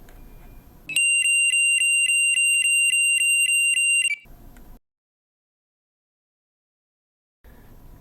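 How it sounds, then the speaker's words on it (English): A Merlin entry control board sounds an audible alarm: a loud, steady, high-pitched pulsing electronic tone lasting about three seconds, preceded and followed by quiet background noise. "an activation of a distress alarm will always be backed up with an audible alarm from the board"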